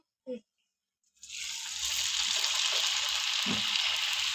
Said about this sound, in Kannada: ಬೇಗ ಬೇಗ ನಾವು ಇವಾಗ ಎಣ್ಣೆಯಲ್ಲಿ ಬಿಟ್ಕೋಬೋದು